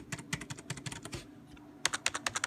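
Keys on a new Corsair K55 RGB membrane gaming keyboard tapped in quick bursts, soft plasticky clicks close up, a short run, a pause, then another flurry of presses.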